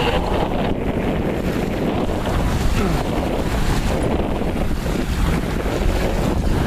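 Steady wind roar and rushing water around a sailboat beating slowly upwind on a solo sail, a constant loud broadband wash with wave slap and no voices.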